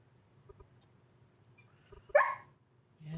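A pet dog lets out a single sharp bark in an otherwise quiet room, with faint clicks and a soft whimper around it and a short low sound at the end.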